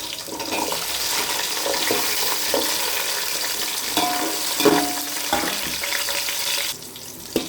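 Chopped carrots go into a pan of vegetables frying in oil for veg biryani, giving a steady sizzle with light stirring clatter and a few clinks before the sound eases off.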